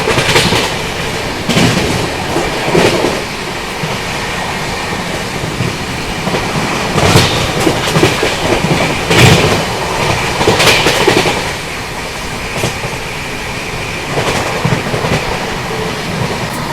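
The Pune–Nagpur Humsafar Express runs at speed, a loud continuous rolling rumble with rhythmic clickety-clack wheel beats over rail joints heard from inside the coach, with no voices.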